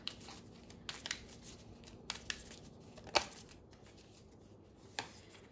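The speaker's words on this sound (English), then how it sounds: "I'm going to close this up with three cards from this love deck." Tarot cards from a love deck are shuffled and drawn close up, with soft papery riffles, slides and a few sharper snaps scattered irregularly over a quiet background.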